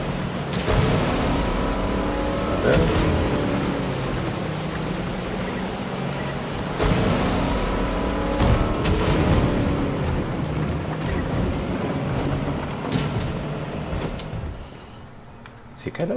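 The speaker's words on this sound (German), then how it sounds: "Das Boot ist so laut." Motorboat engine in a video game, a steady loud drone running throughout with periodic surges, while a player talks over it.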